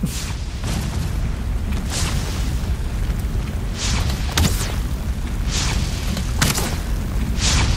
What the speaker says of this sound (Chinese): 哇，那爆炸！